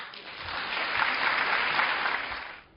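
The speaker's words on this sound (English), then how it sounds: "You heard the applause in the room." A crowd applauds in a room at a Republican Jewish Coalition event, a steady wash of clapping from many hands that swells and then tapers off.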